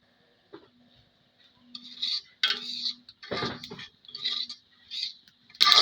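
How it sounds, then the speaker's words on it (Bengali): Sesame seeds popping in hot oil while being fried for a sesame mash, heard as quiet spells broken by sharp, crackly bursts of pops and ticks close by. "সুন্দরভাবে তেলগুলো ফুটে যাবে এই যে দেখেন কত সুন্দর টুসটুস করে ফুটতেছে"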